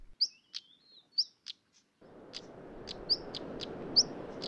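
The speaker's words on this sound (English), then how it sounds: "This coast is a habitat which is home for several species of maritime birds who use the rocks to nest and for shelter." Maritime birds nesting on a rocky coastal cliff give short, sharp, high chirps in a loose repeating pattern, clear at first and then set against a steady rush of surf or wind.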